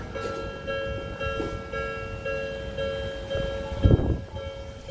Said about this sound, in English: This is the actual train.